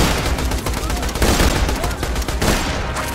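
A gun firing rapidly in the video game Borderlands 2, a loud, continuous burst of automatic shots with explosive impacts that lasts the whole stretch without pause.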